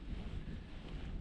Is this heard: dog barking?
no